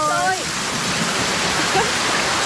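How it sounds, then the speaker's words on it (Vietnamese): Heavy rain pours down in a period drama scene, a loud, steady wash of hiss, with a brief voice heard at the start. "Mưa rồi."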